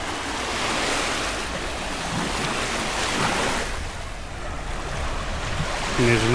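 Calm sea waves wash steadily along the Albanian coast, a continuous soft surf hiss with gentle swells and some wind buffeting the microphone.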